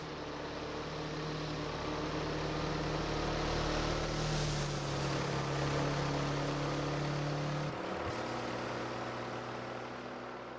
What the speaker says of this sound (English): Quite a different engine sound coming from Clio's car.